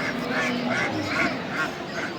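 Ducks quack repeatedly at a village poultry market, several distinct nasal calls coming in a steady rhythm over a constant crowd murmur, fairly close and clear.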